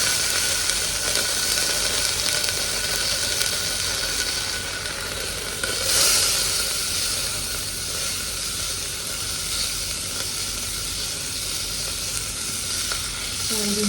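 Ginger garlic paste, cardamom, cloves and black pepper sizzle in hot oil, a loud, dense, continuous hiss close to the pan, with a brief burst of crackle midway.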